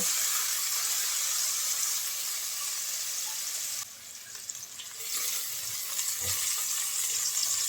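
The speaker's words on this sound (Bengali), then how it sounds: "প্রথমে দুই টেবিল চামচ পেঁয়াজ কুচি দিয়ে দেব এক মুঠ পরিমাণে পেঁয়াজটা হালকা একটু ভেজে নেব" Chopped onion frying lightly in oil gives a steady, bright sizzle that dips briefly midway and then returns at full strength, close by with no voices.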